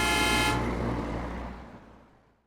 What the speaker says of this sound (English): there was the loud blare of a car horn that shot through him